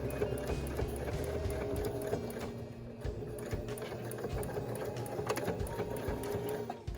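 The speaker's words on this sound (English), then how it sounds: "you're just going to stitch along here all the way to the end, and again reversing those stitches at the bottom." A sewing machine runs steadily, stitching a seam along fabric with a fast, even mechanical whir and rapid needle clatter, close up and alone throughout.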